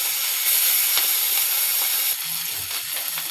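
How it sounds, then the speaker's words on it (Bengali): Prawns drop into hot oil in a wok, setting off a loud, bright hissing sizzle that rises at once and then settles, heard close with no voices. "চিংড়ি মাছ দিয়ে দিলাম।"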